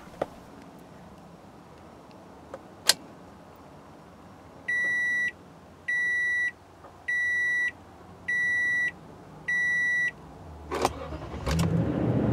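A 2017 Toyota Tundra pickup, heard from inside the cab: a click, five evenly spaced chime beeps, then the engine cranks and catches into a low steady idle.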